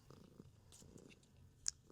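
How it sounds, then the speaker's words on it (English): A cat purring while lying on a lap gives a faint, low, steady rumble, quiet and close, with a small soft knock near the end. "Can you hear her purring? She's just purring away."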